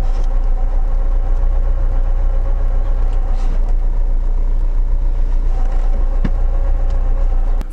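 A Lada car engine runs steadily right after the clutch is released, a loud, close, even mid-pitched hum that holds without a break for the whole stretch.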